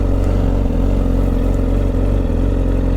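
A Yamaha R1 motorcycle's engine runs steadily with a low, continuous drone and a faint mechanical clatter from its clutch basket, close and loud with no voices.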